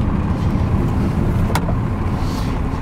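A 1992 Dodge 2500 club cab 4x4 with a Cummins diesel idles steadily close by, a constant low rumble with one brief sharp click partway through and no talking.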